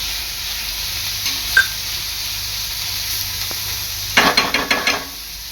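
Chopped tomato and onion frying in a pan, a steady close sizzle with a brief clink and then a quick run of spatula scrapes and taps near the end.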